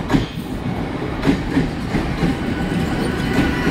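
A Mumbai Central line local train at a station platform, rolling steadily with rhythmic wheel clicks and rumbling carriages, continuous and moderately loud.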